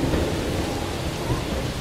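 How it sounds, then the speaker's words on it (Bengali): A steady downpour of heavy rain at night, used as an audio drama sound effect, with dense continuous patter and a low thunder rumble underneath, loud and unbroken. "অনেকক্ষণ ধরেই একটানা বৃষ্টি পড়ছে"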